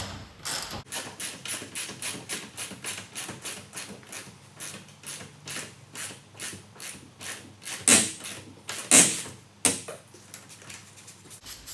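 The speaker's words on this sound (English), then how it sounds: "that creaking that you can hear is the corrosion that's on the very end of the thread" Corroded bolt thread on a classic Mini's rear subframe creaking as it is worked back and forth, a long run of close, rhythmic dry creaks and ratchety clicks with a few sharper squeaks near the end.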